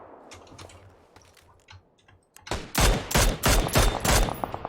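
Rifle fire from an M416 and Mini14 in the battle royale game PUBG: faint ticking at first, then a rapid run of about six loud, sharp shots in the second half.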